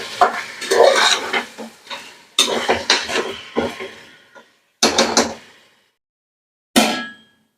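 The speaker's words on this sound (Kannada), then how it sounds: "ಚೆನ್ನಾಗಿ ಮಟನ್ನ ಮಿಕ್ಸ್ ಮಾಡಿಕೊಂಡು 1 ರಿಂದ 2 ನಿಮಿಷ ಎಣ್ಣೆ ಜೊತೆನಲ್ಲಿ ಸ್ವಲ್ಪ ಫ್ರೈ" Mutton frying in oil in a metal pot for biryani, stirred in bursts of scraping and clanking with a steady sizzle underneath, the spoon strokes falling silent between pauses.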